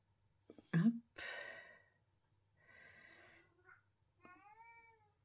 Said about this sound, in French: Désolée, les chats jouent.